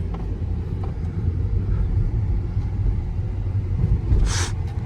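A 2022 Kia car on bald tires accelerates hard during a test drive at a wholesale auction, a steady close engine and road rumble filling the cabin, with a brief hiss near the end.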